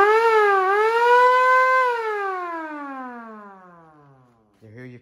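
A Viking aftermarket siren wired to the horn of a 2018 Harley-Davidson Softail Deluxe motorcycle wails loudly, rising and dipping briefly before winding down in a long falling tone, followed by a short burst at the end.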